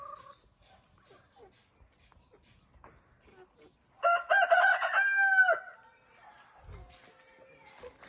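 At a village chicken coop, a rooster crows loudly and close for about a second and a half, with faint scattered clucks before and after and a few quiet voices in the background.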